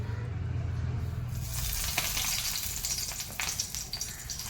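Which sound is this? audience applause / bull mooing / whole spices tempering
whole spices tempering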